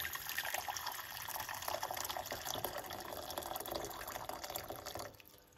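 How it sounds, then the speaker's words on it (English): Water pours steadily in a continuous splashing stream, fairly close, then tapers off at the end. "That's the hot water we're going to be using from the kettle."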